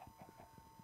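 Chickens in a video game cluck in a quick, regular series of short calls, fairly faint over a steady background hum.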